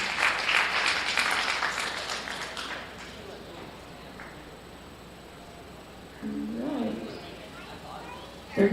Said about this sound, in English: Let's give Liam a nice round of applause